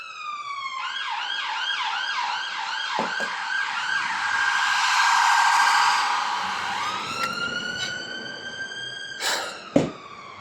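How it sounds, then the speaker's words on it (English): Loud ambulance siren wailing and yelping in rapid cycles, then shifting to a slower wail, with a couple of sharp knocks near the end. "not another fucking ambulance, bruv."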